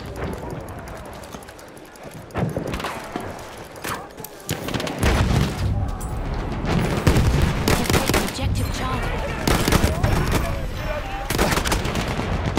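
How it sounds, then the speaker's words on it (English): Battlefield 1 combat with explosions and heavy gunfire rumbling and cracking repeatedly, building into a dense, loud barrage with rapid shots, mixed with game noise. "that special ability of the new elite class is gonna be artillery strikes"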